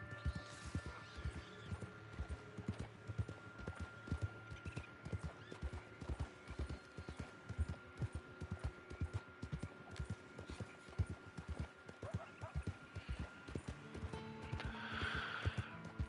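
Rhythmic clip-clop of horse hooves at a steady riding pace in Red Dead Online, with an occasional whinny and soft ambient game sounds underneath.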